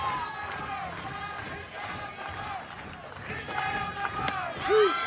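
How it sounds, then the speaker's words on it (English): Crowd noise fills a softball stadium during an NCAA game between Tennessee and Northern Kentucky, a steady din of cheering and voices with a few rising shouts, heard throughout the moment. "It's a very pro-orange crowd, as you would expect here at Sherry Parker Lee Stadium, and a healthy Norse contingent as well to cheer on their club."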